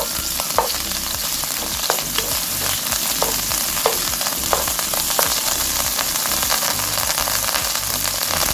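Pork belly stir-fried over high heat with green onion and minced garlic, a loud continuous sizzle with crackling spatters and regular scraping strokes of stirring throughout.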